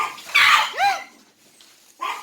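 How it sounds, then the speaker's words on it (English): Puppies bark, yip and whimper while playing roughly, with a few close, bright yelps in quick bursts followed by a quieter pause and another short yip. "let me take care of the puppies"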